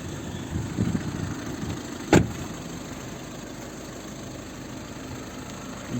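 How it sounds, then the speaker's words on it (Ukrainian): A 2012 VW Touran Highline 2.0 TDI diesel idles steadily at a low, even rumble, interrupted by one brief sharp click near the middle, with no voices. "Двигун працює ідеально рівно, без найменших нарікань."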